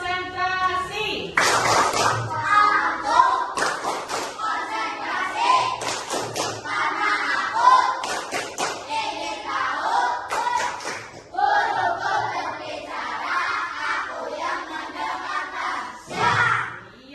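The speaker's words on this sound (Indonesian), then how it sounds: "ibu minta kita tepuk tangan dulu ya. Tepuk konsentrasi" Classroom of children performs the rhythmic tepuk konsentrasi, bursts of patterned group clapping alternating with chanted voices and a teacher's lead, loud and close with short pauses between phrases.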